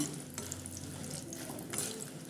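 Dried red chillies frying in a pan for a chutney, a steady close crackling sizzle that stays even throughout with a few brighter spits and no talking.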